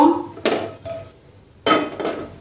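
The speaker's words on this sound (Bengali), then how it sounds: "প্যানটা বসিয়ে দিলাম।" A frying pan is set down on a lit gas stove while preparing a tangra fish curry with potato: two sharp metallic clunks about a second apart, close and fairly loud, with a dull ringing tail after each.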